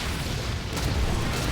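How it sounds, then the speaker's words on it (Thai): A ship explodes during a naval battle in the pirate game Skull & Bones, a dense, rumbling low boom that rolls on steadily for the whole moment without a sharp attack. "เรียบร้อยระเบิดไปดี"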